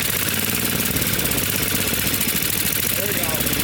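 A 5.5hp Tecumseh small engine idling on a Doodle Bug mini-bike, a loud, steady close putter with a fast even pulse, and a voice talking faintly over it.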